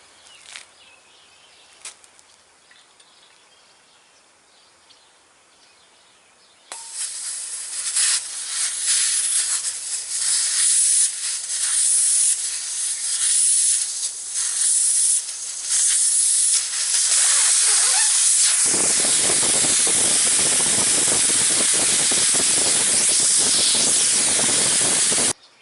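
Air hisses out of a truck tire after its valve core is removed. The clip opens quiet with a few faint ticks, then a loud, steady broadband hiss starts and grows harsher and fuller toward the end, close and continuous.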